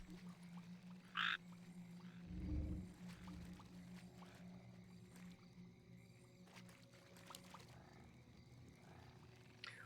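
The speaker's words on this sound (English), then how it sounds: "Frog." A frog critter croaks in Warcraft III, one deep low croak about a third of the way in, faint against quiet game ambience, with a short high chirp just before it.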